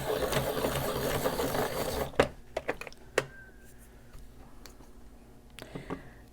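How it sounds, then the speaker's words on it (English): A coloured pencil is ground in a small sharpener for about two seconds, a steady close rasping whir, followed by a few light taps and clicks as the pencil is checked. "I'm going to sharpen this one."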